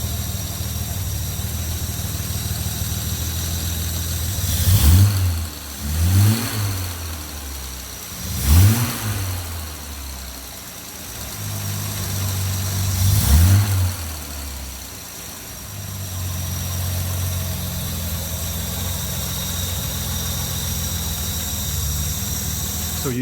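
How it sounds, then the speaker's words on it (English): A Jaguar E-Type engine idles with a low rumble and is revved several times through its carburetors, each rev rising sharply and falling back, with an airy intake rush. "you can really hear the sound of the engine, the air flowing through the carburetors"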